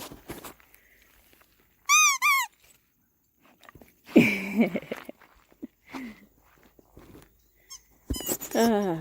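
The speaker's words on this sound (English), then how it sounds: "You squeak your toy?" A dog squeaks a small Halloween squeaky toy indoors, giving short high-pitched squeaks in bursts near the start and end, with a person talking in between.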